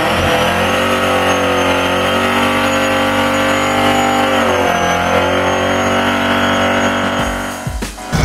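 A supercharged 1971 Chevrolet Chevelle engine runs loud and close with a steady, rich rumble, its pitch dipping and rising slightly before the sound cuts off near the end.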